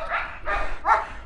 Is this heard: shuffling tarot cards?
no